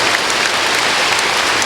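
Church congregation clapping during a Sunday worship service, a dense, steady wash of applause filling the space for the whole moment, with no talking over it.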